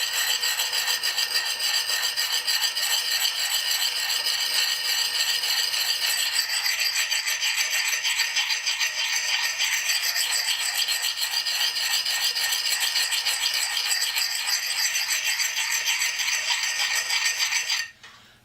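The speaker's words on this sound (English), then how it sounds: "I could probably put an edge on this axe in about, maybe half an hour." An axe blade rubbed on a coarse single-grit sharpening stone, a steady close rasping scrape repeating continuously for nearly the whole length before stopping abruptly at the end.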